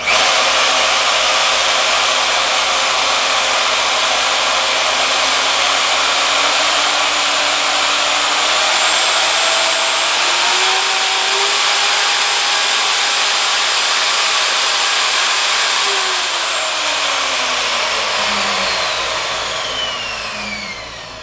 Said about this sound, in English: show you how nice this soft start is on these new routers. So I'm going to kick it on